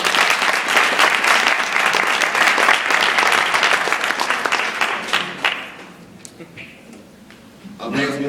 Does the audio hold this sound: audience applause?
yes